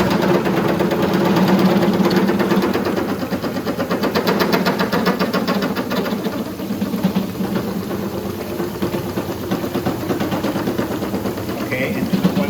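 A lens grinding machine smooths a lens with sandpaper, giving a continuous mechanical whirring hum with rapid rattling vibration that holds steady for the whole stretch.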